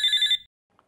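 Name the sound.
telephone ringing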